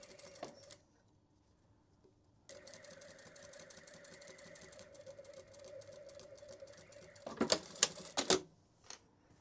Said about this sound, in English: Make sure you keep your clip out of the way of your sewing machine